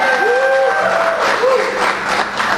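Wedding guests in La Jolla cheer and applaud, a steady broad wash of clapping and crowd noise throughout, with a couple of rising whoops standing out above it.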